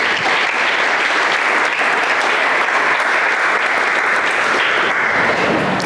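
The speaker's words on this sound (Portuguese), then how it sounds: "Tem alguém aqui para dar um aplauso a Jesus aí ou não?" A church congregation applauds together during a Christmas service, a dense, steady wash of clapping that stays loud and even from start to finish with no voices breaking through.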